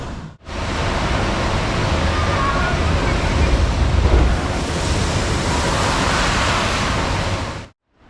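Rushing water from a flume ride passes overhead at Taunus Wunderland amusement park, a steady loud wash of splashing and spray that fades in, holds for several seconds and cuts off, with faint voices underneath.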